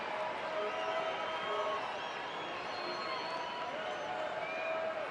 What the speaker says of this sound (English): Diamondbacks crowd getting into it here